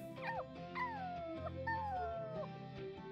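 A puppy in The Sims 4 whimpers and whines in several rising and falling cries, with soft game music underneath.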